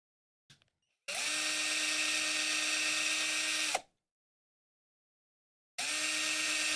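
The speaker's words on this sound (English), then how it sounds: "Drill noise will be done, I promise." A power drill whirs loudly while sculpting a pumpkin, a short tap first, then one long steady burst of about three seconds, silence, and another burst starting near the end.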